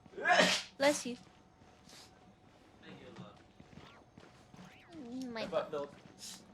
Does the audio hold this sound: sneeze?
yes